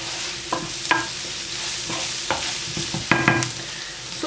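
Salted onions sauté in a pan until glassy, giving a steady close sizzle broken by several sharp scrapes and clinks of stirring, with no voices.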